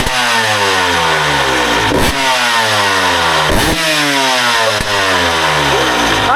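A motorcycle engine with a newly fitted exhaust, its carburetion just tuned, revs hard and continuously up close, with loud rising and falling sweeps and a few sharp throttle blips, no talking.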